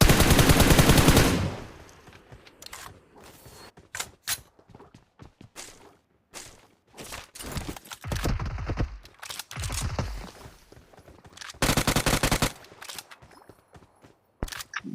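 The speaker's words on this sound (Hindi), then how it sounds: "फिर उसके बाद सामने के साइड से फायर का साउंड आ रहा था" Gunfire from a BGMI video game fight, with a long opening automatic burst followed by scattered single shots and short volleys, some near and loud, others quieter and farther off, along with faint footsteps.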